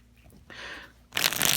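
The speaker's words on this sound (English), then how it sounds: "this shuffle's just like a poker deck." A short riffle of tarot cards, a poker-style deck, being shuffled, a soft rustle followed by a louder, crisp flutter up close.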